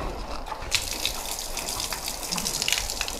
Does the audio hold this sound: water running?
yes